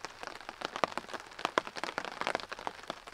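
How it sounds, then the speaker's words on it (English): Steady rain pattering on a camp tarp during an overnight bushcraft storm, with dense irregular drips and taps that carry on without a break, close overhead and moderately loud. "It's getting rainier."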